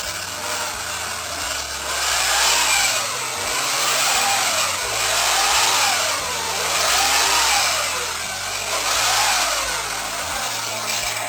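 An electronic engine sound effect from a Porsche 917 KH model car revving up and down in repeating waves, loud and steady, like a toy car's motor noise.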